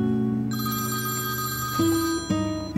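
A telephone rings with a loud, sustained electronic ringtone of steady buzzing tones that shift pitch in short steps toward the end, heard alone without any talking.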